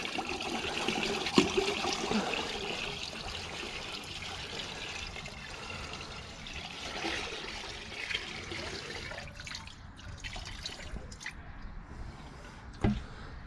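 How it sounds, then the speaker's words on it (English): Gasoline is poured into a bucket of black diesel, a faint, uneven liquid trickle and slosh with soft splashes and drips, quiet and close. "I'm going to add 1 gallon of gasoline"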